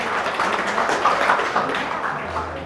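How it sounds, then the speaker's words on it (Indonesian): Students at a motivation training session for ninth graders give a round of applause, a dense steady patter of many hands clapping throughout, fairly loud with no pauses. "tepuk tangan dulu buat kita semua"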